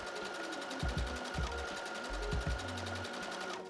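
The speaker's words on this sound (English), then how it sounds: "And now I'm very carefully just going to sew all along this seam." Sewing machine stitching along the seam of a fabric corset top, a steady close whirring hum with rapid needle rhythm and a few brief tonal whines, alone without talk.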